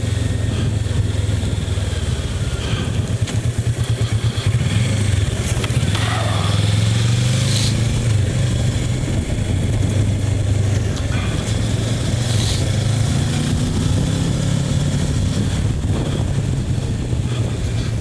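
Kawasaki Versys 650 motorcycle engine running hard, a steady loud rumble with rising and falling revs, the pitch climbing and easing repeatedly under wind noise.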